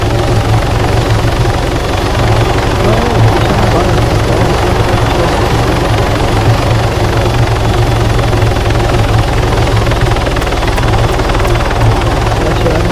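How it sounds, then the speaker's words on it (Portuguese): Helicopter in the ARMA 3 military video game, a loud, close, unbroken rotor thump and turbine roar running throughout, with faint voices buried underneath. "Qual é a opção para tirar o áudio do helicóptero?"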